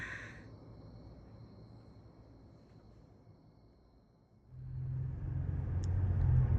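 A car travels along a road, a low steady engine and tyre rumble that swells louder partway through as it picks up speed, with no voices.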